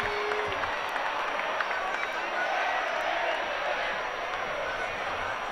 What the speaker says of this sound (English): And the crowd now into it.